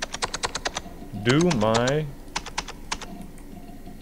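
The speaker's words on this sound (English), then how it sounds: "I don't know what I'm typing." Rapid keyboard typing in a pager video game, in clicky bursts of keystrokes before and after a short stretch of talking, close and crisp.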